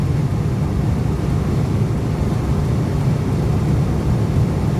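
Strong Mojave desert wind buffets a Jeep on the highway as a loud, constant low roar and rumble. It mixes with road noise, with no pauses and no voices.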